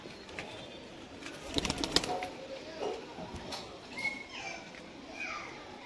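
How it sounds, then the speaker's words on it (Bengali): Soft cooing of a Punjabi pigeon amid a room of scattered background noise, with a few sharp clicks and faint voices in the distance. "ছেড়ে দেখাচ্ছি ধান্যওয়ালা পায়রা।"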